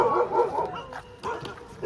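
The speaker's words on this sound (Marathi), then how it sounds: "कुत्रे भोकायला लागले" Dogs barking close by on the first day of a trip to the Konkan coast, a quick run of loud yaps and barks followed by a short pause and then more barking.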